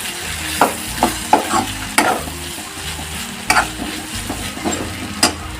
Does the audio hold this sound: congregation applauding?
no